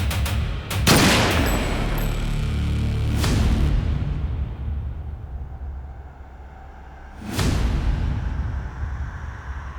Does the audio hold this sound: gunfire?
yes